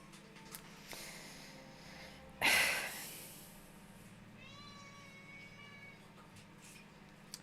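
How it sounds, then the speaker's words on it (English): A crying cat lets out a loud, drawn-out meow close by, followed by a fainter wavering yowl, over a low steady hum. "sorry if you can hear my cat in the background, he's crying."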